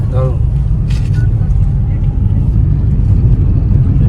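A car speeding along a road through the sal forest of Jangalmahal, with a steady, loud low engine and road rumble throughout and a brief voice near the start.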